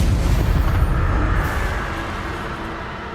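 A Confringo fire-blast spell explodes in the Hogwarts Legacy video game, a loud, deep, rumbling boom that hits at once and slowly fades over a few seconds, with no talking.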